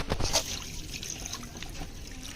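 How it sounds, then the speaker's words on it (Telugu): Faint trickle of coolant water dribbling and splashing steadily as it drains from a Swift car radiator, with a few louder drips near the start. "రేడియేటర్ లోపల ఉన్న వాటర్ అంతా కూడా కిందకైతే"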